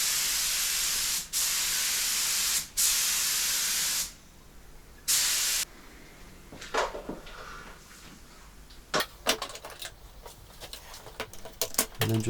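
Aerosol finish coat sprayed onto a Blackguard Esquire guitar body during restoration: three strong close hissing bursts of a second or so each, a short fourth, then quieter handling clicks and taps.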